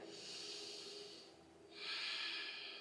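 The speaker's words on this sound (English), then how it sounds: "We're going to take 3 breaths here." Slow, deep breathing during a yoga pose for lower back relief, with a long airy exhale followed after a short pause by a stronger, hissing breath, close and alone without talk.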